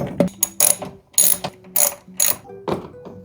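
A hand ratchet bolts a cleaned coolant reservoir back into a high-mileage Subaru FR-S-style car. Several quick bursts of clicking come up close and clear, separated by short pauses, with no talk.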